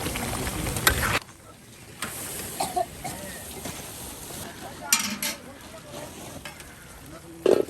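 Papaya and egg bhuna with spices sizzles in a pan at a riverside cooking spot, a steady close frying hiss broken by stirring clatters, with a voice talking at times over it.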